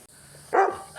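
A single short bark from a dog recovering from a torn ACL, fairly close and loud, breaking a quiet background, with a faint second yelp just after.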